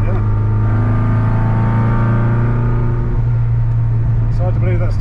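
Porsche 356 engine running loud and close on a rally drive, a steady droning hum with rising harmonic tones as it revs, and a brief voice near the end.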